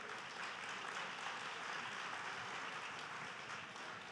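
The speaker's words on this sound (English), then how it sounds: "let's give a round of applause for his three daughters as well and his grandchildren." Audience applauding a farming family's daughters and grandchildren at an on-stage conversation event, steady continuous clapping from a crowd, moderately soft and without talk.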